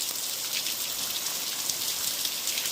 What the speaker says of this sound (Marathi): पावसाच्या सरी अतिशय मोठ्या प्रमाणात कोसळत आहेत